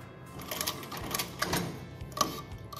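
A sewing machine stitches neckline piping at the shoulders of a garment, running quietly in short rhythmic bursts with faint needle clatter.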